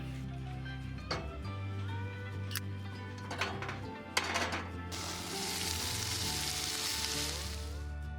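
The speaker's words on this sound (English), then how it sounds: "cooking in my little kitchen setup" Food sizzling and frying in a small camp kitchen setup, a steady close sizzle with a few clicks and utensil taps, swelling into a louder hiss partway through.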